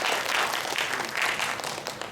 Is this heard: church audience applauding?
yes